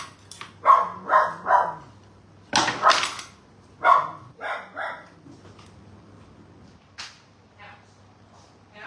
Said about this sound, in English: And the dog starts right up here.